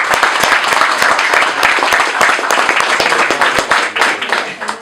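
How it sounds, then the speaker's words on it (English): A room full of campaign supporters claps in sustained applause after a candidate's call to thank the committee members, dense overlapping claps that stay loud and steady throughout. "Let's give everybody here a round of applause"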